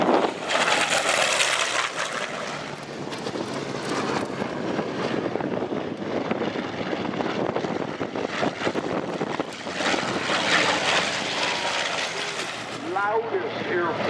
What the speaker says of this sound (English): Loudest airplane.